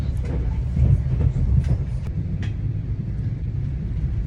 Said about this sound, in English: So I'm continuing my journey from Kiev to Lviv, and it's so relaxing because the train is not full at all.